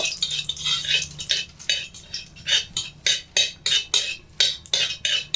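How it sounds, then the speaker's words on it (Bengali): A utensil stirring oil in a pan for keora fruit chutney, rhythmic scraping strokes repeating about twice a second, close and clear with faint metallic clinks. "তেলটা একটু নেড়ে চেড়ে দেবো"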